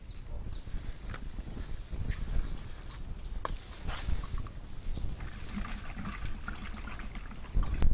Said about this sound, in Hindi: 1 लीटर गाई मूत को हांडी रे ढाली दियो